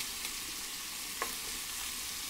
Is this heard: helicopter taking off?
no